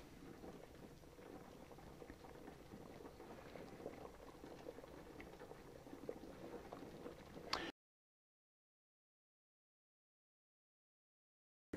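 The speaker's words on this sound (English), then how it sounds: "The potatoes are boiling nicely." Potatoes boil in a pot of water being softened for mashing, a steady low bubbling and churning that runs evenly for several seconds, then cuts off into silence.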